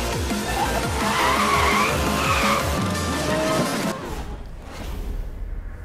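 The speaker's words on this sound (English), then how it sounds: "Nothing is better than a drift with nitrous." Car tires squeal in a long drift in Need for Speed: Most Wanted (2012) with an Audi R8 GT Spyder, the engine roaring loud and close before fading into a quieter rush.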